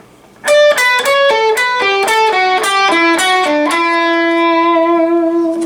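An electric guitar plays a quick descending run of plucked notes, ending on a long held note with a wavering whammy-bar vibrato.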